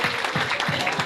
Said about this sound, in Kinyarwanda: ngo mumuhe amashyi menshi cyane